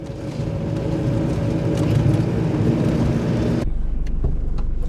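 A 30-year-old Daihatsu Fourtrak (Rocky) 4x4 accelerating on the road, a loud steady engine drone with wind and road rumble that cuts off abruptly near the end, no talk.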